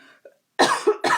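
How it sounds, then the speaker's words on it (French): Two or three close, loud coughs with a faint sniff before them, from a person demonstrating Valentine's Day decorations indoors; no talk over the coughs. "ça se peut que vous m'entendiez renifler et légèrement tousser"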